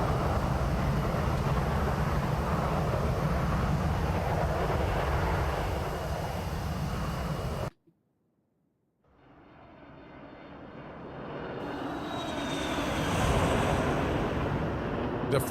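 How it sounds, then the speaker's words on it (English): An IXEG Boeing 737 Classic in X-Plane 12 roars past in a flyby, loud steady jet noise cutting abruptly to silence, then returning as a rising whine and swelling roar with a descending tone. "The flyby sounds are exceptional on the IXEG."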